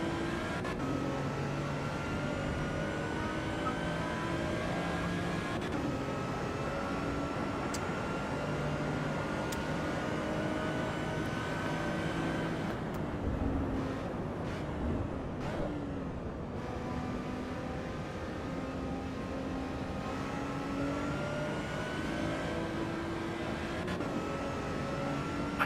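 Race car engine in the Assetto Corsa EVO driving game, droning steadily at high revs with shifting engine tones and a brief dip around a downshift midway, continuous and close throughout.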